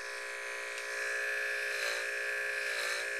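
Electric hair clippers fitted with a number 2 guard buzz in a steady, close, high-pitched drone, swelling slightly louder partway through as they work.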